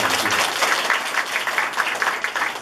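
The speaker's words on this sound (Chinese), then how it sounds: "我们再给它鼓掌一下哈" An audience claps warmly for a Tainan family-support center at its 50th anniversary event, a dense, steady wash of applause holding at even loudness from start to finish with no voices over it.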